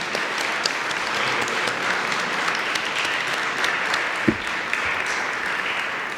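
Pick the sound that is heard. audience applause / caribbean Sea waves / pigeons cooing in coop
audience applause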